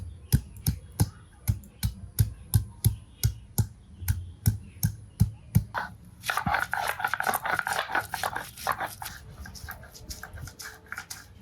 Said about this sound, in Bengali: পাটাতে আদা নিলাম আদাটা একদম ভালো করে থেতলে নেব